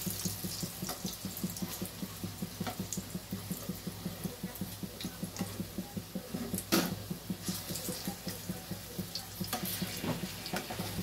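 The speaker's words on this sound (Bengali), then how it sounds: "একটু চেপে চেপে বড়াগুলোকে ভেজে নিতে হবে" Lentil boras are pressed down as they fry in a pan, producing a quiet, soft bubbling crackle with a faint rhythmic pulse and occasional brief clicks, with no voices.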